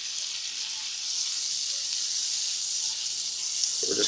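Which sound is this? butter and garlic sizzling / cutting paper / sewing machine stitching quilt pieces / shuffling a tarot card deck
butter and garlic sizzling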